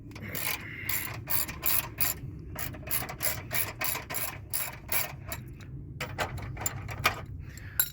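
A ratchet with a 13mm socket loosens battery hardware on a 2007-2014 Dodge Avenger, a rapid close series of clicking pawl strokes in uneven bursts with short pauses between.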